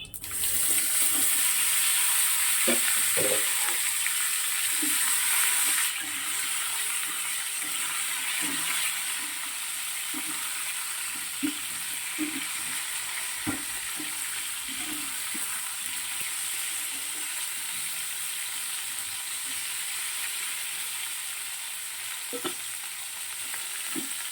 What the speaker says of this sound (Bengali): জিরে ফোড়ন দিলাম, সাদা জিরে।